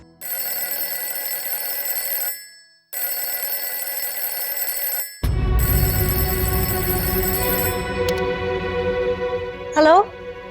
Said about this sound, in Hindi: हाँ, फोन बज रहा है।